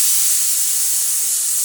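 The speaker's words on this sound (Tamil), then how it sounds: "இதில் ஒரு குக்கர் மூடியை வச்சு க்ளோஸ் பண்ணி ஒரு 2 விசில் விட்டு இதில் எடுத்துக்கோங்க" A pressure cooker of sambar lets out a loud, continuous high steam hiss from its whistle, a steady close blast with no break.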